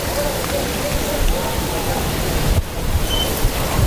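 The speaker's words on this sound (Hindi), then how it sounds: "ये इस्लामाबाद में तूफ़ानी बारिश है इस वक्त।" Heavy storm rain pours down in Islamabad, a dense, steady hiss of downpour that stays loud and unbroken throughout, with only a brief dip partway through.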